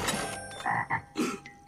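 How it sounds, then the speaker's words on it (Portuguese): A cartoon giant frog croaks in a few loud, throaty bursts with short gaps between them, close and clear against a quiet musical background. "aqui tem um sapo gigante. Um sapo malvado."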